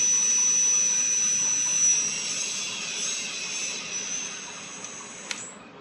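Electric motors of a DIY Arduino quadcopter running up under throttle: a steady, loud high-pitched whine with a faint hum beneath that slowly fades, then a brief click near the end.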